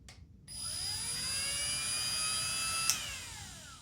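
A modified cut-off grinder motor spins up on a test run, a steady high-pitched electric whine with a rising then settling tone and a rushing hiss, close and continuous throughout.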